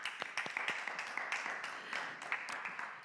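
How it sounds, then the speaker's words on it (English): An audience at a conference on artificial intelligence claps for a departing guest, with soft, close applause and scattered individual hand claps. "This is your applause."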